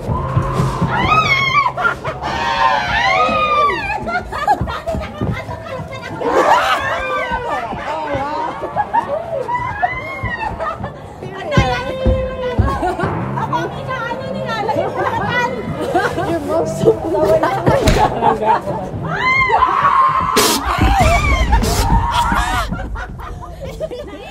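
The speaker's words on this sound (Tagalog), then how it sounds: "na-record ko naman yung sigaw namin" Several people shout and scream in a haunted house over busy, overlapping chatter, with loud bursts of high-pitched yelling and some laughter throughout.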